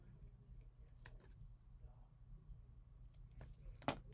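Scissors snip through paper card, trimming a jagged toothed edge from a chomping shark shaker card: a few sharp, quiet clicks and cuts spaced apart against low background hum, with one louder snip near the end.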